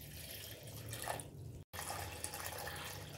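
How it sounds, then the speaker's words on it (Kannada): About two glasses of water poured into a cooking pot, a continuous close splashing flow with a brief break midway before it resumes. "ಇದಕ್ಕೆ ಒಂದು 2 ಲೋಟದಷ್ಟು ನೀರನ್ನ ಹಾಕ್ಕೊಳ್ತಾ ಇದ್ದೇನೆ"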